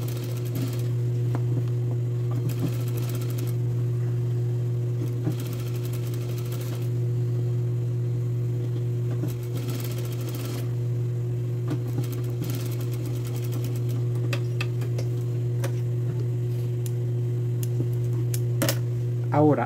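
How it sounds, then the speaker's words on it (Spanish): A sewing machine stitches a blouse lining in steady, continuous runs with a persistent hum under the needle's rapid clatter, pausing briefly now and then. "estoy cosiendo pegado a la costura donde hice la unión"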